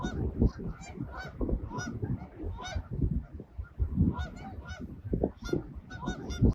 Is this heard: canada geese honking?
yes